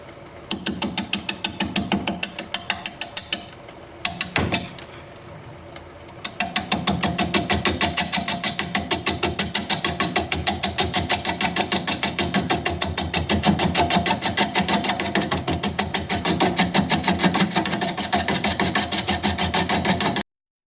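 A wood lathe turns a piece of driftwood at 380 RPM, giving a steady, rapid mechanical rattle that runs on for the whole stretch, broken only by one brief dip near the start.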